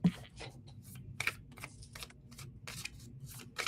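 Tarot cards are shuffled in quick riffling bursts, crisp and close, with soft fluttering and tapping between bursts.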